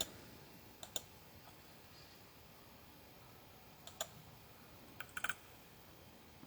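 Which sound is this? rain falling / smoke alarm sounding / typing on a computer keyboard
typing on a computer keyboard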